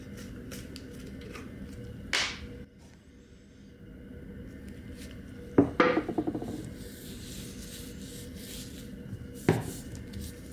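A cloth rubbing Danish oil into a wooden dead blow hammer in a workshop, a soft continuous rub with a few sharper scraping strokes, close and fairly quiet.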